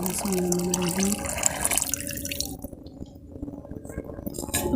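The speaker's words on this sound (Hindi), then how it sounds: "ये जो गोश्त पे जो मैंने गलाया वो पानी और ये घी तरी जो वो मैं इसमें डाल दूँगी" Meat cooking water and ghee poured into a pot of haleem, a slow-cooked wheat and meat stew, give a steady wet splashing and dripping that fades into softer sizzling bubbles.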